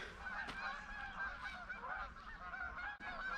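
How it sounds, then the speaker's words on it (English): Several Canada geese honk repeatedly from overhead, a steady chorus of nasal calls carrying through a constant background hiss. "Got some Canadian geese flying above."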